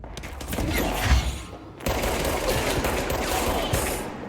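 Rapid video game gunfire crackles in dense bursts, a loud sustained fusillade with a brief break before the shooting resumes just as heavily, and no talking over it.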